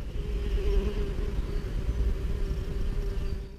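Solitary bees and wasps buzzing at a reed nest, heard up close as a steady, continuous drone with a faint tonal hum, and no talk.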